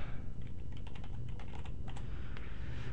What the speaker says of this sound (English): type in Phoenix Real Estate.